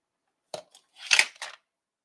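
Paper for a handmade card being trimmed, three short crisp snipping cuts in quick succession, the middle one longest, close and fairly quiet with silence around them.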